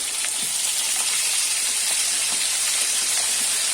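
Potatoes sizzling in hot oil in a wok tempered with cumin seeds, a loud, steady hiss that keeps going without a break, with faint crackles mixed in and no voices.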